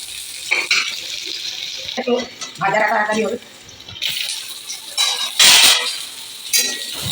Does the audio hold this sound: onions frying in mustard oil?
yes